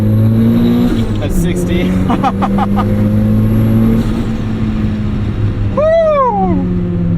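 Tuned Mazda Miata making about 240 wheel horsepower, pulling hard in first gear on an open road: loud, rising engine drone that climbs then drops at a shift, with a person speaking briefly over it.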